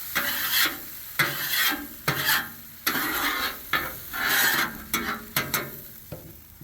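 Shrimp cooking on a Blackstone griddle, with a spatula repeatedly scraping and tossing them across the hot flat-top in short rhythmic strokes over a steady sizzle, close and fairly loud.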